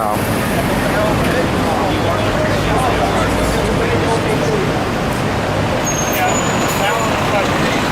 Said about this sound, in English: that's the bus. It says Bergen Sheriff